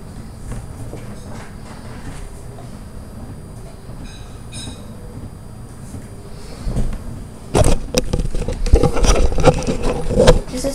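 A home printer prints a certificate, sitting fairly quiet for several seconds before it breaks into a loud, harsh mechanical rumbling and clattering that grows heavier toward the end.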